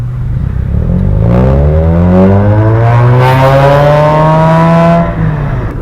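A Mazda RX-8's rotary engine revving loud and close, its pitch climbing in a long smooth sweep and holding high before easing off, with a buzzy multi-toned drone and no talking.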